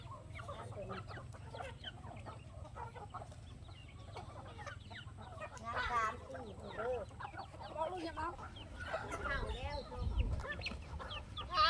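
Several chickens cluck and chatter in a busy coop, with a steady low hum underneath and no one speaking.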